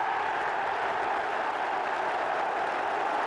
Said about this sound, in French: il savoure les applaudissements avant de reposer le ballon